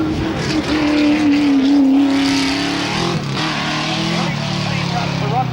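A race car climbs a hillclimb course at the 1994 Australian Hillclimb Championships at Collingrove, its engine holding a loud, steady roar with a rising tone before shifting, while a commentator talks over it.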